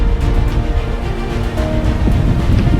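Strong, continuous wind roars through a severe storm with gusts up to about 60 mph, buffeting the microphone in a dense, unbroken rush with no speech.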